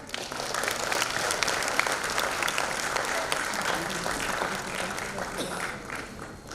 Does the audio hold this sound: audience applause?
yes